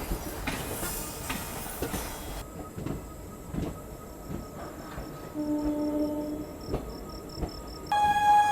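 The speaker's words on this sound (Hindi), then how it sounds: "रात के 11:05 का वक्त हो रहा है और अपनी ट्रेन का अराइवल हो रहा है बरौनी जंक्शन रेलवे स्टेशन पे" A train pulls into Barauni Junction railway station at night, with wheels clattering over rail joints, then a steady rolling rumble, a high metallic squeal and tonal horn-like beeps nearby.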